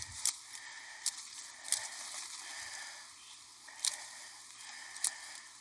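Leaves are cut off a shrub with hand pruners: five or so quick, crisp snips spaced irregularly over soft rustling foliage, quiet and close, with no one speaking.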